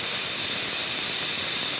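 Garlic hits hot oil with mustard seeds and cumin in a home tempering, giving a loud continuous steamy hiss that holds steady throughout.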